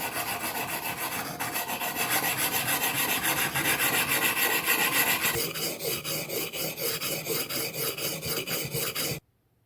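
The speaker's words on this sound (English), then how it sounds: "I start by establishing the bevel on 220 grit stone at approximately 30-degree angle." A knife bevel is ground on a 220 grit whetstone at about a 30-degree angle, giving steady, loud rhythmic rasping strokes back and forth that continue without pause before stopping abruptly near the end.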